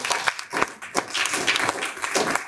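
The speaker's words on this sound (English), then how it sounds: "So can we get a round of applause for Ryan?" An audience claps in a round of applause at a tech talk, a dense patter of hand claps swelling and fading in uneven bursts at moderate loudness, with no talk over it.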